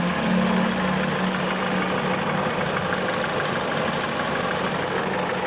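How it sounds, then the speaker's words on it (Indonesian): Steady idle of a used 2013 Mitsubishi Outlander Sport engine, recorded up close: an even, continuous hum and light mechanical clatter with a faint low tone early on, no talk. "coba didengarkan irama mesinnya apakah ada masalah atau enggak"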